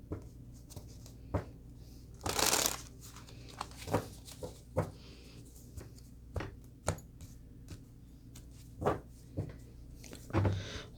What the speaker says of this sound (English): Let's pull some cards on these